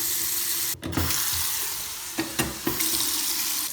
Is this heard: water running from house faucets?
yes